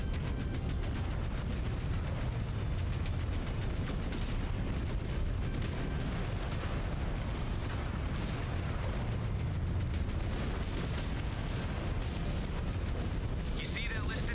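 Missile explosions pound a battlefield of mechs in MechWarrior 5: Clans, a continuous barrage of loud booms and crashing impacts layered over rumbling combat noise.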